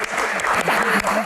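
Audience applause, a short dense patter of clapping heard under and alongside a man's speech.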